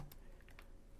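Computer keyboard typing on a Windows machine while entering a hashcat command, a short burst of several quick, faint keystrokes heard alone.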